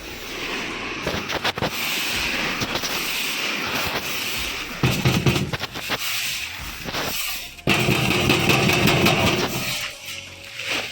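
Farm tractor during sowing work, its engine running with a steady mid-pitched rumble, interrupted by clattering bursts and shifting loudness as it works close by.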